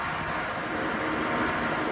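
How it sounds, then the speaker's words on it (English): The circuit two compressor of a Trane Varitrac HVAC system runs rough and noisy, a dense, steady rumbling drone close to the microphone with no pauses throughout. "circuit two compressor works. Sounds absolutely horrible, but it works"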